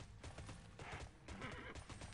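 A brown horse in the TERA video game whinnies while its hooves clip-clop in quick pulses, the sounds fairly quiet and rising and dropping in short bursts.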